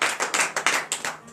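A church congregation at morning prayer claps in acclamation, about seven distinct bursts of hand claps in a quick, regular rhythm, fairly close and alone without talk.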